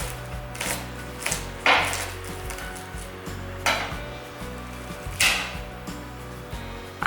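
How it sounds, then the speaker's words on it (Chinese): Knife chopping fresh corn cobs into short chunks on a board in a home kitchen: about half a dozen sharp, spaced thuds with crisp cracks, close and fairly loud, over a faint steady background hum. "玉米清洗好了，现在把它切成小段小段的"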